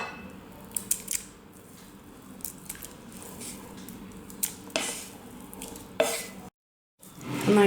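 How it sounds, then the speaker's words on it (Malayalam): Boiled potato being mixed into beaten egg in a bowl, heard as close, wet squishing and stirring strokes with a few sharper scrapes, then a short silent gap before the mixing resumes. "നന്നായിട്ട് മിക്സ് ചെയ്ത് കൊടുക്കുക"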